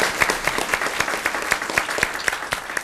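Audience applause for a senior from Lake Taylor High School serving as the City of Norfolk School Board student representative; steady, moderately loud clapping from a crowd with regular sharper claps standing out, no talking.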